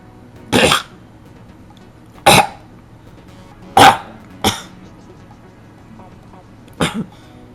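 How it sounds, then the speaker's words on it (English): Five sharp coughs, spaced a second or two apart with quiet between them, close and fairly loud; the last one is a quick double cough. "I've been trying to cough up this hairball for the last couple days."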